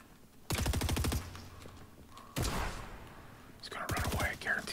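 Gunfire in the video game Fortnite, with two loud bursts of rapid shots and a third volley late on, sitting under quiet whispered talk.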